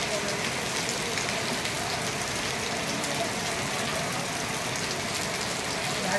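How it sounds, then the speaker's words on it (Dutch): Rain falling in Vrindavan, a dense, steady hiss of drops on surfaces heard from shelter, constant and fairly close, with a faint engine hum underneath. "Eindelijk regent het hier."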